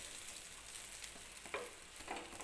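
A bread omelette sizzles quietly in a pan as it is flipped, giving soft steady frying hiss with a couple of brief scraping bursts near the end.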